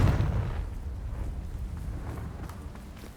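A Confringo spell explosion in Hogwarts Legacy, a heavy low boom that hits at the start and then rumbles and fades over a few seconds, with no talk.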